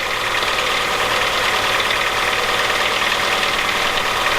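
A small engine runs steadily at an even pitch, close and loud for the whole stretch, with a rough knocking texture and no voices over it.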